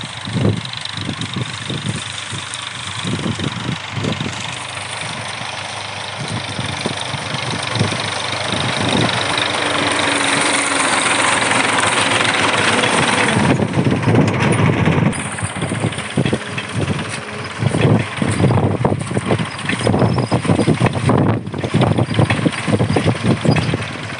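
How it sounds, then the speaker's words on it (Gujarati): A tractor engine runs outdoors in a windy village farm setting. It makes a steady, fairly loud mechanical drone mixed with gusty wind noise, and it grows louder and rougher about halfway through. Nobody speaks. "ટ્રેક્ટર આવે"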